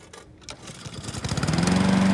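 A lawn mower set to its lowest cutting height is pulled and starts, its engine catching and settling into a steady, growing mid-pitched running hum, nearby.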